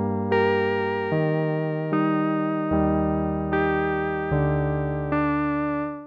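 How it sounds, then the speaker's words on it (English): A Repro-5 software synthesizer preset played dry with no external effects, a buzzy sustained chord-like tone changing pitch in several even steps, each note starting sharply and slowly fading, alone. "This is what the preset sounds like without any external effects"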